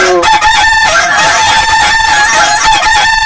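A cartoon rooster gives a loud, sustained crow with bright harmonic tones rising and holding, filling the clip close up, with no talking.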